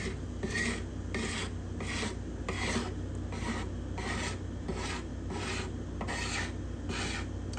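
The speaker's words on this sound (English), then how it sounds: "So I'm scraping, but I'm scraping at a different angle to create a roundness." A scraper draws along a spruce guitar top binding to round it over, about a dozen rhythmic rasping strokes at an even pace, close and steady with no talk.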